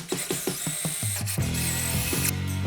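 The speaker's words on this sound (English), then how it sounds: "5, 6 rivets to drill out, and then we're going to go all the way through" A power drill bores out rivets on a race car in a garage, with a series of short, sharp grinding bites followed by a sustained high whine as the bit runs on, loud and close.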